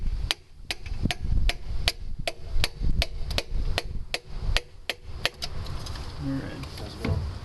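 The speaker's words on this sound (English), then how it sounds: "We're going to take the back side of this wooden hammer." Sharp wooden knocks from a wooden hammer tapping a piston into an engine cylinder, about fifteen evenly spaced taps with ringing tops, fading out near the end while faint background noise continues.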